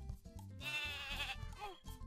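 A sheep in the video game Croc: Legend of the Gobbos gives a loud, wavering bleat in the middle, surrounded by bouncy in-game music and sound effects.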